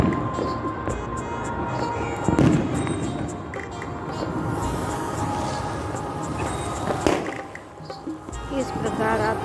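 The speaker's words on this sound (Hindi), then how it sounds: "इस प्रकार आतिशबाजी के साथ उल्लास अभिव्यक्त किया जाता है।" Fireworks and firecrackers at a Chhath festival celebration pop and crackle in scattered sharp bursts over a dense, noisy crowd din, a few louder blasts standing out.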